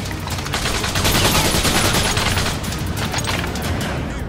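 Dense rapid gunfire in The Darkness video game, a loud continuous burst of shots with booming low rumble throughout, no talking.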